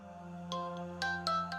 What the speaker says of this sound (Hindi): इस्लान का फोन?